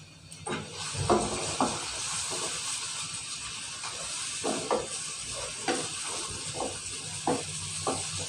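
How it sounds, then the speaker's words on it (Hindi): Onions fry in a pan with a steady soft sizzle and hiss, broken by scattered stirring scrapes and clinks, heard up close with no talking. "अच्छा सा भून लें प्याज को।"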